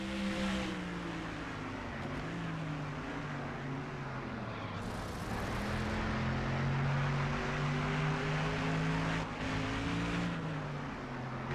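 Race car engines in NASCAR Thunder 2004 drone and shift pitch as the field comes onto pit road at Daytona, several overlapping motor tones rising and falling steadily.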